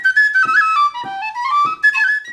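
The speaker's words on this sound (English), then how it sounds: "or a tin whistle." A tin whistle plays a bright, breathy melody of clear sustained notes with small pitch bends, close and fairly loud, alone with no voices.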